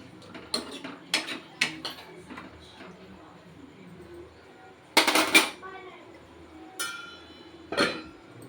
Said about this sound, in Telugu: ఇప్పుడు మూత పెట్టేద్దాం.